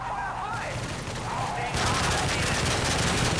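Dense, continuous gunfire bursts in Call of Duty: Modern Warfare 3, loud and close, building into a sustained barrage of rapid shots.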